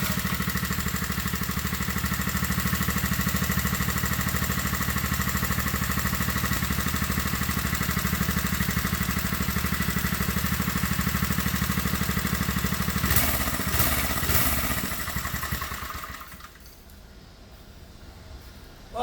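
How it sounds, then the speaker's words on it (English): Briggs and Stratton flathead engine on a vintage Arco minibike running steadily at a loud, close idle with a constant drone, then shutting off near the end and leaving near silence. "There ain't nothing that sounds better than a flathead."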